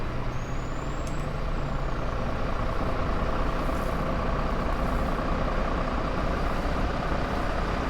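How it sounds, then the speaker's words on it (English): A bus in the VR driving game The Bus, its engine droning steadily and close with a sharp air-brake hiss near the start, then a continuous loud rumble with no talking. "Can't help but feel like I'm really driving a bus."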